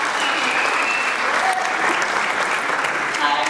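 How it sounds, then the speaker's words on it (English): Enthusiastic applause from a party crowd after a toast, dense steady clapping with scattered cheers, close and sustained for the whole moment. "she needs a big round of applause"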